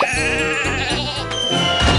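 Sheep bleat loudly and repeatedly in a Thomas & Friends video game, several overlapping nasal baas in quick succession, close and prominent with no talking.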